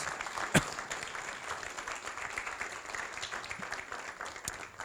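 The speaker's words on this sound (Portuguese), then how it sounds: "Pode se assentar aplaudindo ao Senhor, o nosso Deus." A church congregation applauds in a dense, even wash of clapping at moderate distance, with one sharp louder bang near the start and no speech over it.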